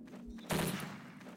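A short, loud burst of gunfire in the Counter-Strike Source video game, rising out of quiet ambience and fading in under a second.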